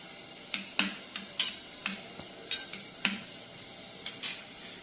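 A spoon stirs curd into sautéed masala in a pan for a Kathiyawadi-style bottle gourd and yogurt curry, giving repeated soft scrapes and taps against the pan over a faint, steady sizzle.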